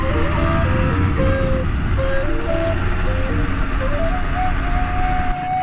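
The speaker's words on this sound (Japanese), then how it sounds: "なんだあの車めちゃめちゃ飛ばしてんじゃん。" A car speeding past on a road, heard as a loud continuous engine and road rumble with a steady droning tone throughout.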